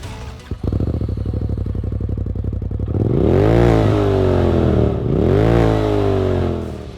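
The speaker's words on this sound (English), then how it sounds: "this exhaust has really mellow and quiet idle, but as soon as you give it a few revs" A Polaris RZR UTV exhaust idles close with a steady, lumpy rumble, then revs up twice in strong rising surges that fall back, loud and alone.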